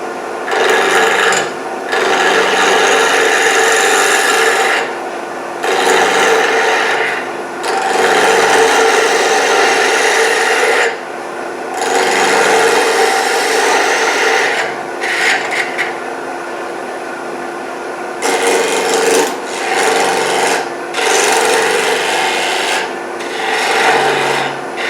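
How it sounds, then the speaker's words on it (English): A spindle gouge cuts a spinning wood blank on a lathe while a mushroom bird house is shaped, giving loud, rough, hissing scrapes in long bursts separated by brief pauses, with no voices. "So let's take a spindle gouge and see if we can get some shape on this thing"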